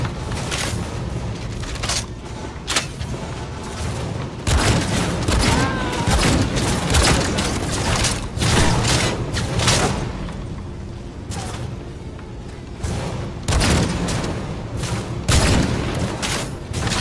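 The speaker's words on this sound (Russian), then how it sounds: "Дядь, лови гранату." Heavy gunfire and grenade blasts erupt in a Cyberpunk 2077 firefight, sharp volleys and booms landing in clusters with brief lulls between, loud and close throughout.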